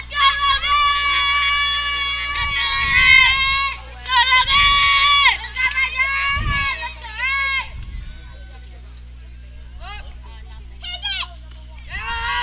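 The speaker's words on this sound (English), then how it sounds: "as you can hear, we got the crowd behind us tonight" The crowd at a Little League Majors district final baseball game sends up sustained shouting and cheering in bursts, with children's voices prominent over a steady low hum.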